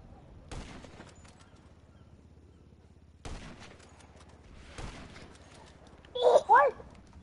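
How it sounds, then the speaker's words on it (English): Gunfire from a pickup weapon in GTA Online, three separate sharp shots spread across several seconds over a faint low hum, then a short burst of voices raised close by. "How'd you shoot me? You used your gun."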